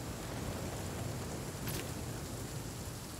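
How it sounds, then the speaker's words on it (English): Steady rainfall in the survival video game The Flame in the Flood, a continuous even hiss of falling rain with no voices over it. "Oh god, it's raining."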